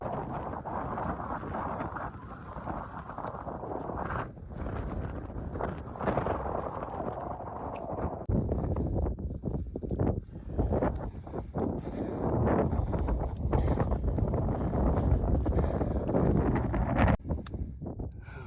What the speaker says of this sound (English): now it's a race and I'm gonna be walking into the wind.